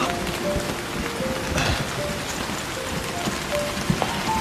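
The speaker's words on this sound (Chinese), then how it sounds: "下雨了， 赶紧走。" Steady rain falling outdoors during a drama scene, a dense continuous hiss of drops on surfaces at moderate level throughout, with no talk over it.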